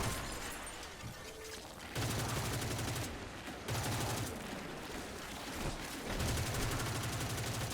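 Rapid automatic gunfire shooting raiders in the video game Destiny 2, repeated loud bursts of steady rattling shots separated by brief gaps, close and dominant over the game's ambient sound.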